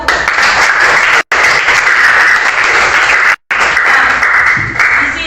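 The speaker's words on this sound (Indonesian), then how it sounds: "Kasih aplaus untuk kelompok 1." Loud, dense applause from a classroom group, steady and sustained with two brief cut-outs.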